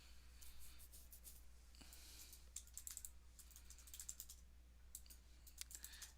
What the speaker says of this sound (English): as you hear the keyboards, you hear the keys